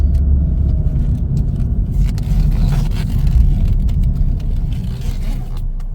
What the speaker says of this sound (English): So now we're going to back it up into a parking space.